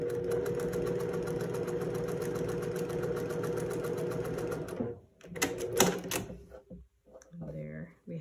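A home sewing machine stitching fabric squares runs in a steady, fast mechanical whir for several seconds, then stops, followed by brief clicks and handling noises nearby.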